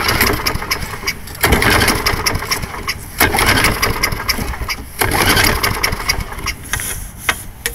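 An MTD Lawn Chief lawn mower engine, still warm, cranks and sputters loudly, surging in several repeated pulls before catching into a rough, rattling run close by.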